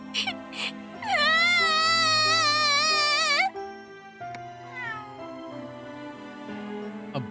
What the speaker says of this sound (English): A black cat approaches.